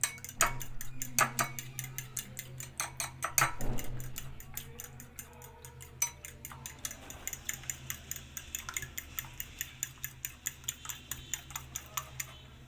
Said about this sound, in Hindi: तो ये अंडे हमने अच्छी तरह से फेंट लिया है